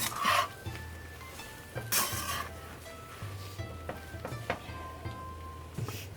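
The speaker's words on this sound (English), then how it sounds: "So this has been cooking for about a minute with the shrimp in there." Shrimp lo mein cooking in a pan, Trinidad Chinese style with soy sauce, gives a low steady sizzle under intermittent scraping and stirring clatter from a utensil against the pan, close up, with no talking.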